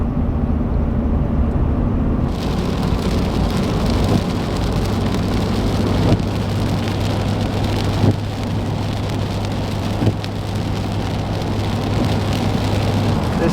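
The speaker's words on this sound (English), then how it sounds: "Pouring rain." Heavy, steady rain pours down during a drive in an RV on a road trip from Florida, a continuous dense wash of noise with a low, constant road rumble underneath and a few faint thuds.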